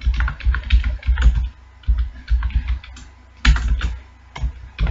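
Rapid bursts of typing on a computer keyboard while entering C code, close and crisp, with irregular clusters of keystrokes separated by short pauses.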